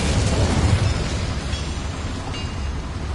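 The Incendio fire spell in Hogwarts Legacy lets out a dense, roaring whoosh of flame that stays loud and steady for about three seconds, heard alone.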